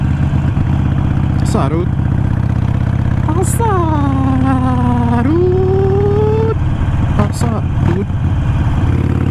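A Harley-Davidson Iron 883 motorcycle rumbles steadily at close range in town, a constant low engine drone throughout, while someone speaks briefly over it and a tonal whine sweeps down and back midway.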